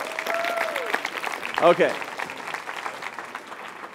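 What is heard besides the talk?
audience applause for volunteers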